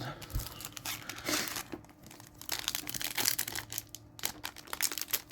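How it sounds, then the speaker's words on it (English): A crinkly plastic wrapper on a Mardu precon card sampler pack is torn and crumpled open, close and continuous, with bursts of sharp rustling and tearing. "Oh, I hate how these packs are to open, though."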